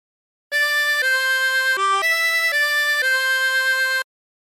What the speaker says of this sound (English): practice this until you end up with something that sounds like this